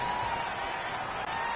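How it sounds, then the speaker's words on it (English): Stadium crowd noise in a PS4 football video game, a steady distant roar of spectators, fairly faint, with no voices on top. "The crowd's not doing that O-line any favors."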